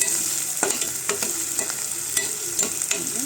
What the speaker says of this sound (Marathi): कांदा आपण भाजतोय